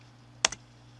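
A quick pair of crisp computer keyboard keystrokes, close and faint, in an otherwise quiet room with a low steady hum.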